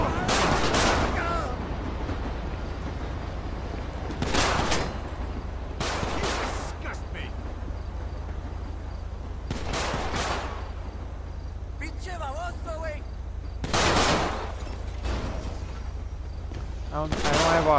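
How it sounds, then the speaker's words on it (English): Gunfire during a police shootout in LSPDFR, separate loud volleys of rapid shots bursting every few seconds over a steady low hum, with voices talking between bursts. "So shots fired."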